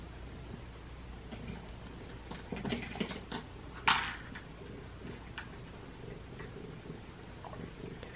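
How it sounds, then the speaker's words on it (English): Cats purr softly and continuously close by, with a few brief louder rustles and a sharp sound partway through. The scene is quiet, with no talking. "Do you hear them purring? They're purring so loud."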